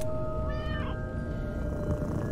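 A cat meows in The Baby In Yellow horror game, one clear drawn-out meow early on over constant low game ambience.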